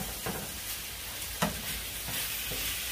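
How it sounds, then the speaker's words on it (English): Taco meat is stirred in a pan, with soft, quiet scraping strokes over a faint, steady sizzle, with no voices. "you mix it all up and stir all over, make sure it's all mixed up together"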